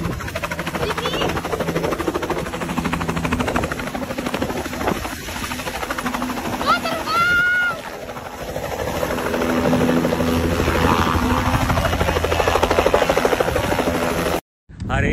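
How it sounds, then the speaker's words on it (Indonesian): A helicopter's rotor thrums loudly and continuously nearby, a dense buzzing roar that holds throughout with voices faintly underneath, cutting out briefly near the end. "Hari ini bawain ayahnya Nyak Puput naik helikopter."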